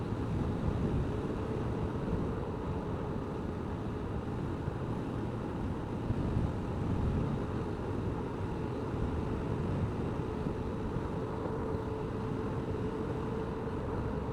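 Wind roars steadily during a motorbike ride on a hot day, a dense rumbling rush of air against the microphone that holds constant with no voices.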